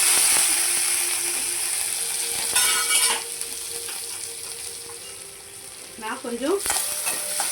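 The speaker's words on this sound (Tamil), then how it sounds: "எண்ணெய் காஞ்சதும் வடவம் போடலாங்க." Vadavam, a sun-dried seasoning mix, frying in hot oil for tempering greens, a loud close crackle and sizzle that slowly settles, with a brief spoken phrase near the end.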